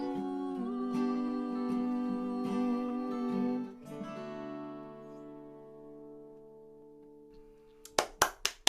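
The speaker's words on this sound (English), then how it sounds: "I'm clapping on behalf of 134 people" A sung birthday tune ends on a long, fading chord at a birthday concert. Then a short burst of close, sharp hand claps follows, a handful of loud smacks from a single person.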